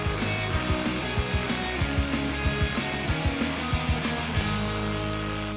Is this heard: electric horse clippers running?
yes